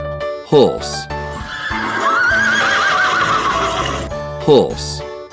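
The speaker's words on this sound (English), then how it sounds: "Horse." A horse lets out a loud, close whinny that trembles and falls in pitch over about two seconds, with short sharp bursts before and after, all over background music.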